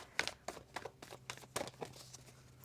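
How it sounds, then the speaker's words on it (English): Tarot cards are shuffled close by, a quiet run of short papery riffles and slaps in uneven bursts, with no voice. "One more shuffle here."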